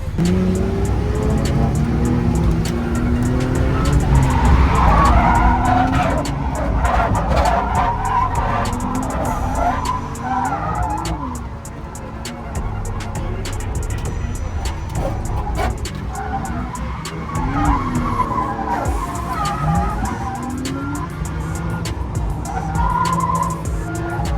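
Modded car drifting with its engine stalling and cutting out, tires squealing and motor surging unevenly, loud and close for the whole stretch.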